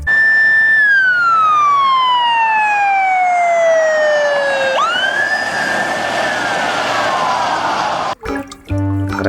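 A toy police car siren wails loudly and alone, one long falling sweep followed by a second rising tone that slowly descends, ending in brief rattling clicks.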